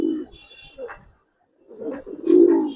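Silver khaki Giribaz pigeons coo nearby in two bursts of low, throaty rumbling separated by a silent gap, the second louder and fuller, with a few faint higher chirps mixed in.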